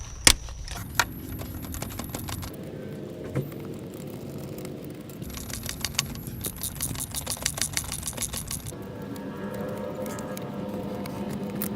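A 10mm socket on a ratchet wrench removes valve cover bolts on a K-series engine, with bursts of rapid clicking ratchet strokes separated by short pauses and small metallic clinks, close and quiet.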